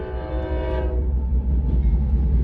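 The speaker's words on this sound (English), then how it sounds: "there's a train right before the school." A train passing near a school, its horn blaring loud and close for about a second before giving way to the deep continuous rumble of the passing cars.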